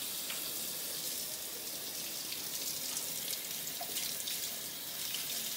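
Water runs steadily from a kitchen tap during cleanup while cooking Honduran enchiladas, giving a constant, close hiss with no break and no voices.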